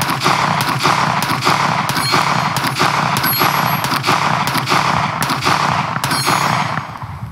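Springfield Armory Prodigy 1911 pistol fired in a fast string of loud, sharp shots, roughly a dozen cracks spaced about half a second apart over steady outdoor background noise.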